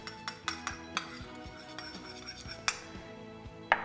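Light clinks of a utensil against a dish or glass as olive oil is stirred with cranberry pear balsamic dressing, scattered sharp ticks over a few seconds with no talking.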